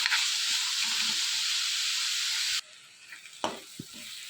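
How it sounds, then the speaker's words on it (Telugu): Sliced onions frying in hot oil for a tomato curry give a steady, close sizzle that suddenly drops in level partway through, followed by quieter crackling and a few light stirring knocks. "ఇలా అన్నీ కూడా బాగా మిక్స్ చేసుకుని ఆనియన్స్ అన్నీ కూడా ఆయిల్లో మగ్గేంత వరకు వేయించుకోవాలి."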